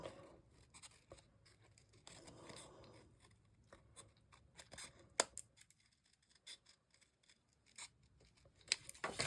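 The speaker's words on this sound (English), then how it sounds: "I just take my scissors and cut it off" Scissors snip and trim the edges of a handmade greeting card, giving quiet, close, irregular cutting and rustling sounds of card paper with a few sharper clips.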